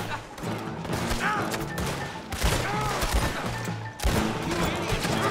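Several gunshot volleys crack out in a Red Dead Redemption 2 shootout, in separate sharp bursts over a busy layer of game sound.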